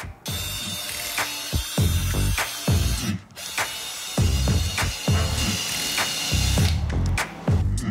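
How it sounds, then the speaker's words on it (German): A power drill boring holes into a wooden board while building a garden bench with a folding table, repeated bursts of whirring and grinding close up, separated by brief pauses, with no voices. "Wenn ich die Löcher bohre, versuche sie etwas versetzt zu machen, damit ich einen besseren Halt habe im Brett."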